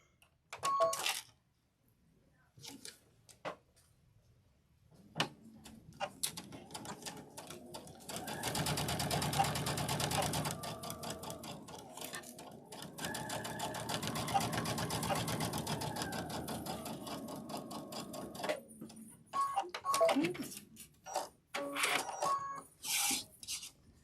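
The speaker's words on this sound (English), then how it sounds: "Let's go sew it." A sewing machine stitches a fabric door banner, a steady close mechanical whirr in two long runs with short starts and stops and clicks before and after.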